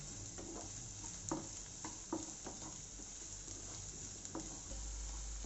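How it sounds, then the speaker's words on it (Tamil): Chopped big onions with mint and coriander leaves sautéing in a pan for spicy country-chicken chops, a steady sizzle broken by scattered spoon scrapes and stirring knocks, close and moderately loud with no talk. "ஒரு 2-3 மினிட்ஸ் இதை நல்லா வதக்கிக்கோங்க."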